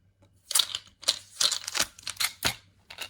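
Packaging around a set of Aeronautica Imperialis dice is torn and crinkled open close up, giving a run of sharp, papery crackles and snaps in uneven bursts.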